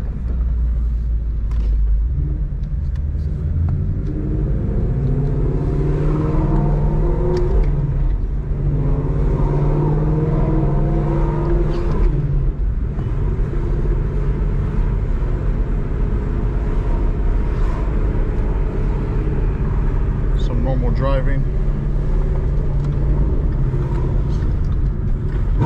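A 5.0 Ford Mustang with Kooks headers and a Corsa Xtreme exhaust rumbles loudly nearby, its deep idle broken by several rising revs and throttle blips across the stretch.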